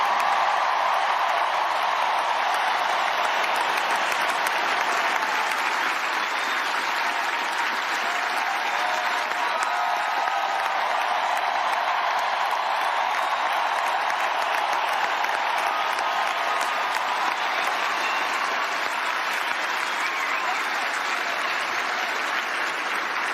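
A huge stadium crowd at a St. Louis Cardinals farewell ceremony for Albert Pujols and Yadier Molina applauds and cheers in a sustained, dense roar that holds loud and steady without a break.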